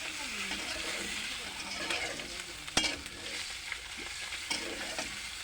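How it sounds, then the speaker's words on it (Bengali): Eggs fry lightly in a pan, giving a soft, even sizzle with stirring and scraping scattered through it. One sharp knock cuts through the middle, and a voice can be heard faintly in the background. "হালকা ভেজে নিতে হবে"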